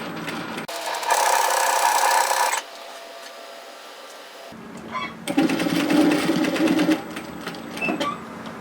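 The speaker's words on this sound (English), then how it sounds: "Put your presser foot down and continue sewing to the other corner" Sewing machine stitching knit fabric for a teddy jacket: two close bursts of fast, rattling mechanical stitching separated by a quieter pause with faint handling noise, no voices.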